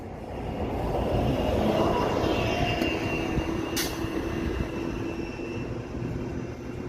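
A train rolls past in the city in the evening, a steady loud rumble of wheels on rails sustained throughout, with a brief high squeal partway through.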